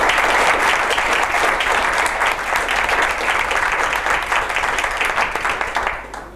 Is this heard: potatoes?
no